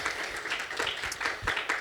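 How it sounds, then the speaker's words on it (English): Conference audience clapping after a talk on YDB database performance, a short burst of dense applause that is steady and moderately loud. "A round of applause,"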